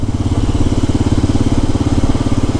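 A motorcycle ridden between hotels in Timor-Leste by an Australian biker gives a loud, close, steady low engine thrum with a fast regular pulse and no talk.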